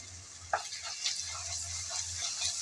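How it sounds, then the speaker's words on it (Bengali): Ginger-garlic paste frying and being stirred in a pan while cooking bamboo shoot curry, giving a steady soft sizzle with a few brief scraping clicks of stirring. "নেড়ে চেড়ে আদা রসুনটা ভেজে নিতে হবে, যেন কাঁচা গন্ধটা চলে যায়"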